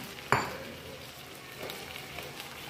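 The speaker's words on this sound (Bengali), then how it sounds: "এবার আমি দিয়ে দেবো একটু বেগুন ভেজে রেখেছিলাম, বেগুন দিয়ে দেবো" Fried eggplant slices tipped into a hot pan of cooking lote fish, giving a sharp clatter as they land, then a steady low sizzle with faint stirring scrapes; no voices.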